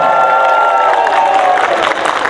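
A crowd applauds and cheers loudly and steadily at the opening of a youth sports tournament, with sustained tones and noise from a large hall.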